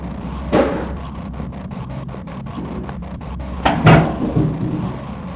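A door in the horror game Don't Scream, set in a forest, opens or closes with two distinct bumps. The first comes early and the louder second arrives a few seconds later, over a steady low ambient hum.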